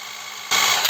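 A ONEVAN 2800 Nm cordless impact wrench spins up at its first speed setting, a steady high-pitched whine that starts abruptly halfway through after a quieter hum and stays loud and close to the end.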